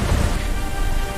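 A sea storm pours heavy rain with a low thunder rumble, a loud, constant hiss of broadband noise over a deep undertone, brief and unbroken.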